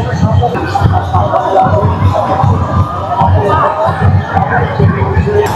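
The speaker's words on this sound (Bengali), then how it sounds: "লাখ লাখ লোকের ভিড়।" A vast throng of pilgrims gathers at a holy bathing site during Krishna Paksha, filling the air with a dense roar of voices and shouts that pulses in uneven waves, close and continuous.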